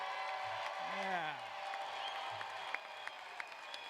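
Families at a high school class of 2021 graduation ceremony applaud and cheer the standing graduates, a broad crowd roar beneath an amplified announcer's voice.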